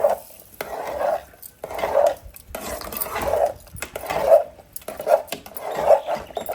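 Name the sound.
stirring tempered curd rice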